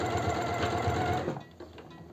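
A sewing machine stitches a seam on a cotton fleece robe, running at a steady fast buzz close up for over a second, then stopping, followed by faint handling noises.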